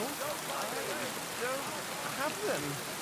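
Rain in Kingdom Come: Deliverance II patters as a steady, soft hiss, with a faint merchant voice drifting faintly underneath.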